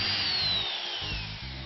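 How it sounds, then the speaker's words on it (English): A power drill whirs steadily, pre-drilling into a Meranti wood frame, its pitch dropping slightly as it bites, then briefly easing off near the end. "Pre-drilling this means the Meranti won't split."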